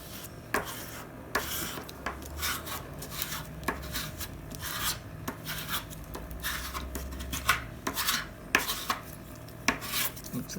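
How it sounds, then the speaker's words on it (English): Glue being spread across copy paper for a junk journal, close rubbing and scraping strokes in an irregular rhythm with occasional sharper taps, moderately loud, no talking. "And keep spreading the glue."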